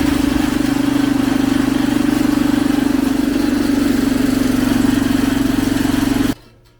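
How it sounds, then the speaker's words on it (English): A rebuilt mini-bike engine runs loud and close with a steady buzzing drone and a strong hum, holding evenly for about six seconds before cutting off abruptly, leaving only faint background. "We did an engine rebuild. It's running good and it's building pressure."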